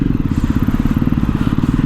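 A Jawa Perak motorcycle rumbles along on a test ride, its low engine thumping in a steady, throbbing pulse close by.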